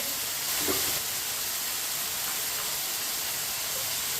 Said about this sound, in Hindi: ये देखिए टमाटर डाल लेंगे